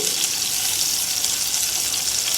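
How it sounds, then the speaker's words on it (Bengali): Whole spices, cinnamon and bay leaf with chopped garlic and dried red chilies, fry in hot mustard oil in a pot, giving a steady, even sizzle and hiss with no pauses throughout. "সাথে দিচ্ছি কিছু দারুচিনি ও তেজপাতা, দিচ্ছি 3টি বড় রসুন কুচি এবং 5টি শুকনো মরিচ"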